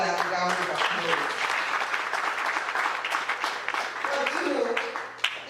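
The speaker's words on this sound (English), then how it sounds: "She deserves another round of applause." An audience applauds for a young woman with steady clapping that fades slightly toward the end while people talk and call out over it.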